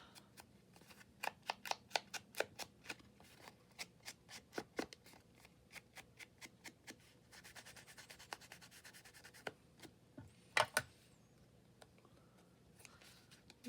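Scissors snip through paper for a retro-themed handmade craft piece, a quick steady run of crisp close cuts with a few louder clips near the end and no talking.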